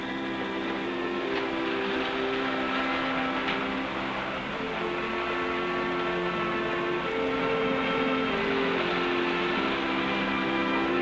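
A toy train runs steadily with a continuous mechanical whir and rattle, humming tones layered over it, loud and close without pause.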